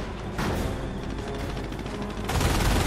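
Artillery fire in Company of Heroes: a dense, continuous barrage of booming impacts and rattling gunfire fills the battlefield, with a heavier burst of explosions near the end, loud and sustained.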